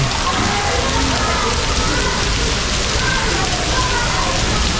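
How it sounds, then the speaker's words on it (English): Steady rain pours at Prambanan Temple in Yogyakarta, Indonesia, a dense, even hiss of drops on surfaces that continues unbroken throughout with no distinct voices. "Prambanan Temple. In the rain."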